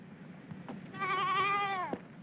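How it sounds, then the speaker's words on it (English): A sheep bleats once, a clear, wavering cry lasting about a second at moderate distance over a quiet, faintly noisy background. "Cute little sheep!"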